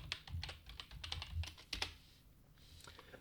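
Fingers tap out a search on a computer keyboard in a quick, uneven run of close key clicks that stops after about two seconds, leaving a quiet room.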